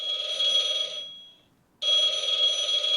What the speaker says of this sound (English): that phone hasn't rung in years